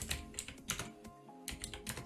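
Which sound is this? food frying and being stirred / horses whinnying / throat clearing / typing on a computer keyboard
typing on a computer keyboard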